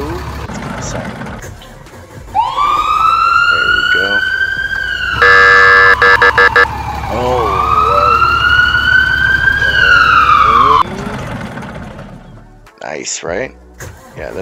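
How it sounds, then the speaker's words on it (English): A fire truck siren in Farming Simulator wails loudly and continuously, rising and falling through several long sweeps with a brief steady tone partway through. It ends abruptly, leaving quieter game noise. "so let's get the siren"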